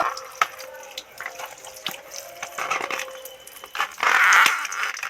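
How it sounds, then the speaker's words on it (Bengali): Banana flower being washed under running tap water in a kitchen: a continuous splashing stream that swells and surges louder near the end, with intermittent clatters and handling noises. "এবার মোচাটা বেশ সুন্দর করে ধুয়ে নেব"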